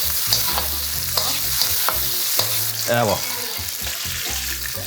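Bell pepper frying in hot oil, a continuous dense sizzle with repeated scraping stirs and utensil taps against the pan, close up, and a brief word spoken midway.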